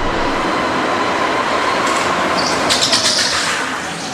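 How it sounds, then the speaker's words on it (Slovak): Steady tyre rolling noise from an electric go-kart moving along, with a faint, thin motor whine running through it. "Slyšíte jenom odvalování pneumatik a pištění elektromotoru."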